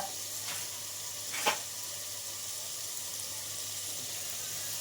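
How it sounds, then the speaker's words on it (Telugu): Turmeric and a teaspoon of coriander powder fry in oil for an egg curry, a quiet, steady sizzle with a brief louder stir or scrape near the start and no talking. "ఇవన్నీ బాగా వేగాలి. నూనెలో బాగా ఉడికితే నూనెలో ఇవన్నీ చాలా రుచి వస్తుంది."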